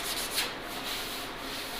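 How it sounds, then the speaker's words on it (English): High build primer on a car body is sanded by hand, close up: a steady dry rubbing scrape with a few quick strokes, with no talk. "Well, let's get back to sanding."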